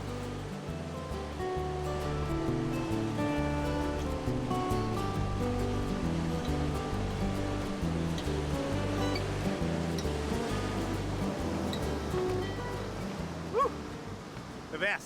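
Ocean surf off Hawaii rolls and breaks in a continuous, steady wash. Under it a dog barks and yips repeatedly and other voices blend in.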